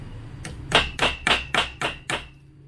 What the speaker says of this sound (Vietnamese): Đũa ăn một lần và dùng búa đóng xuống nhá.